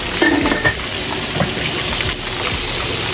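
Potatoes and onions frying in a pan, a steady close sizzle with a few scrapes and stirring clinks of a utensil against the pan, continuous throughout.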